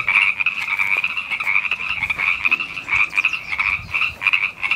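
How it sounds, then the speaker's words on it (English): A dense, loud chorus of frogs croaking continuously, a steady high-pitched trilling din with no voices. "We're over here looking at the frogs, and they're extremely loud."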